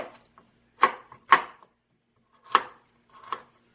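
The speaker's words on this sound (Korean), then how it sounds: "이렇게 깨끗이 씻은 양배추는 이렇게 가운데 심을 잘라주세요" Knife chops through a washed cabbage core on a cutting board, five sharp, close cuts in an uneven rhythm with quiet gaps between them.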